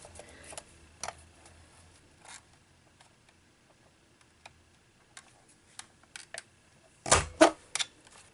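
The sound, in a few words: alphabet punch board punching paper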